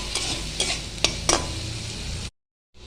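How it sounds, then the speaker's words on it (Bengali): Capsicum frying in leftover potato oil in a kadai, giving a continuous close sizzle broken by several scraping stirs and clicks of a spatula, then a short gap of silence before the sizzle returns. "আলু ভাজা তেলের মধ্যে আমি ক্যাপসিকামগুলোকে একটু ভেজে নেব"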